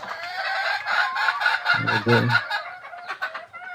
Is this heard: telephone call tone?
no